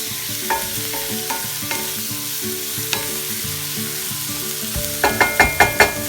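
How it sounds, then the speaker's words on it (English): Spiced food sizzles in a pan as it is stirred, with a steady frying hiss, light scraping taps, and a quick run of sharp utensil knocks near the end, close up and without talk. "Give it a little stir here to get all that spice into it."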